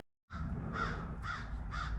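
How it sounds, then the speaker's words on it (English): Crows caw three times in a quick series of harsh, nasal calls outdoors, moderately distant over a low rumbling background, with no talking. "them crows is noisy"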